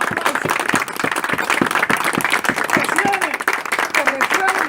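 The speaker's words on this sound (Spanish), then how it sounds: "Eso merece un gran aplauso. Un gran aplauso." Audience applause at a commemorative political gathering, a dense run of claps from a crowd that carries steadily through the whole stretch, with some talk or voices mixed in partway.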